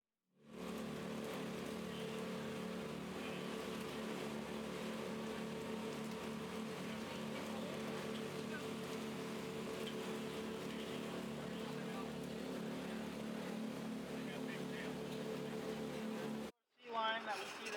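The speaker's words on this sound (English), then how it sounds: "And the boat, we were just moving straight through." A steady, droning boat motor runs continuously, loud and close, with wash and rumble, moving through water near Juneau, Alaska, cutting off abruptly near the end.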